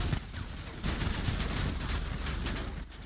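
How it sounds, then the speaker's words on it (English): Dense gunfire during a GTA V roleplay standoff with police, a continuous loud volley of overlapping shots and rumble lasting throughout, with no voices. "They're shooting."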